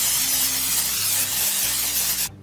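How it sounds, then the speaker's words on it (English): A steady cooking spray hisses continuously into a baking dish for about two seconds, then cuts off abruptly. "I'm gonna spray it really well with some cooking spray"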